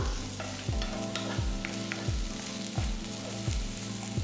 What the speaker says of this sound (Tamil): இதெல்லாமே லைட்டாக வதக்கிக்கலாம்.